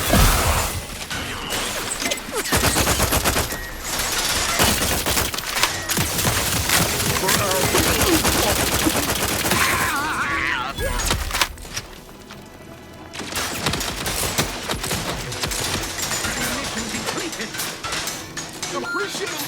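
Gunfire in a science-fiction shooter game, The Outer Worlds 2: dense, loud bursts of shots and impacts run almost continuously, dip briefly near the middle, then resume under a game score.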